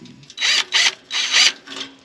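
A DeWalt power tool working on a truck exhaust, four close, loud whirring bursts with short gaps between them.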